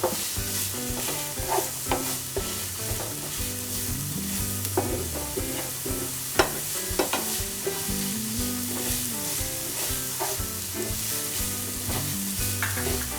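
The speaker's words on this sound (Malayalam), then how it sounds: "ഇനിയും പച്ചമുളകും കരിവേപ്പില അരിഞ്ഞു വെച്ചിട്ടുണ്ട്. അത് വിട്ട് നമ്മളൊന്ന് വഴറ്റി വരും." Green chillies and curry leaves sauté in a pan for a red spinach cutlet, a steady close sizzle with scraping stirs and clinks of the spoon running throughout, under background music and with no voices.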